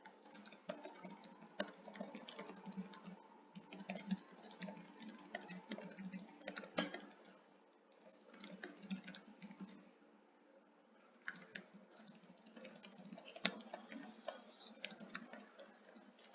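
Rapid, irregular clicking of keys on a computer keyboard as a prompt is typed, steady bursts with brief pauses, close and fairly quiet, no voices.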